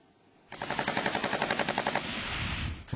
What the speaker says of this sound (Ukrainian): Наші військові стримують їх зустрічним вогнем.